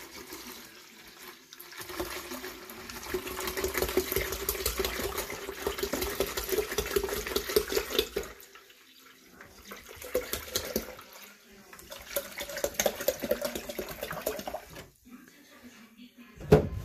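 Purified drinking water pours into a pitcher for low-sugar lemonade with grapefruit juice, a steady liquid rush that runs for several seconds, pauses, then resumes.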